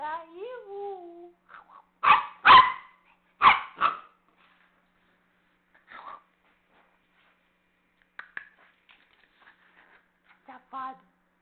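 A dog barks in a few sharp, close bursts, followed by scattered softer whimpers and small yaps spread over several seconds, with some vocal sounds early on and quiet gaps between.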